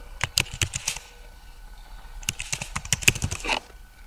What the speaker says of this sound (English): So open your web browser and type FastStone in Google.